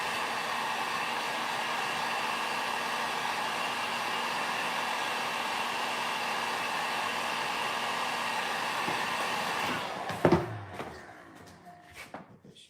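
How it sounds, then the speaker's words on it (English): Steady heat gun blows a constant airy roar for about ten seconds, drying pigments on a WoodUbend moulding during a Christmas tray makeover, then cuts off, leaving a few close handling knocks and clatters. "especially with the heat gun."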